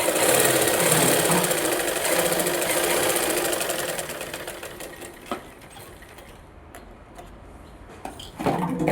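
A sewing machine runs steadily while stitching the lining of a blouse, a loud close whirring that slows and stops midway, followed by a few short bursts of stitching.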